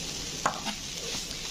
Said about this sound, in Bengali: তো দিয়ে ধনে পাউডার আর নারকেল কোড়া দিয়ে নাড়তে হবে বিটরুটটাকে